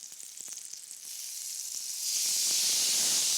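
Small cubes of fruit start frying in a hot pan, a steady sizzle and hiss that swells louder after a couple of seconds with faint crackles, close by and with no talking.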